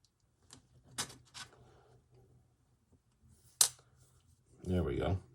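A blade cuts polymer clay at a crafting workshop with a few sharp, close snips and clicks between quiet pauses, then a brief rustle at the end.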